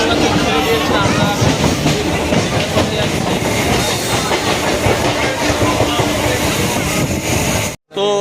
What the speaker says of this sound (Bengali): দেখতে পাচ্ছি ট্রেন বেরিয়েছে সাঁতরাগাছি থেকে